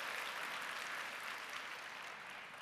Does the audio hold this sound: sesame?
no